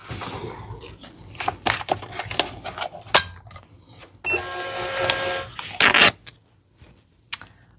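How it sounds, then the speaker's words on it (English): A label printer feeds and prints 4x6 shipping labels, giving a series of sharp mechanical clicks and whirring feed bursts, with a steadier buzzing run in the middle and a final rattle before it stops. "So I'm gonna pop these 4x6 labels into the printer to get ready to ship."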